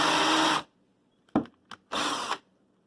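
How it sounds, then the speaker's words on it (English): A power drill bores into scrap wood at a slight downward angle, giving two loud whirring bursts of about half a second each, separated by a gap with a couple of short knocks. "I want to drill at a little bit of a down angle"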